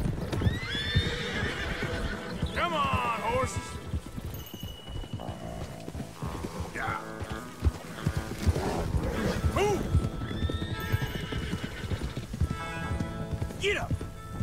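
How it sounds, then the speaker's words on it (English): Horses in Red Dead Redemption 2 neigh and whinny repeatedly while hooves clip-clop steadily throughout, close and fairly loud, with a voice speaking over them at times. "Come on, horses."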